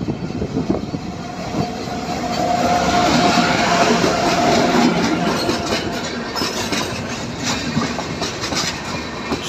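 The 12377 Padatik Express, a superfast train bound for Alipurduar, runs through Shamchi railway station at full speed, a loud, close rumble with steady clickety-clack of wheels swelling and holding over the passing carriages, with no voices.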